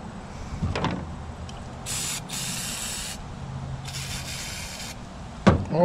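Brake fluid sprayed onto the spark arrestor of a Stihl FS 56 RC string trimmer, in two close, loud hissing bursts of about a second each, with handling knocks before and after.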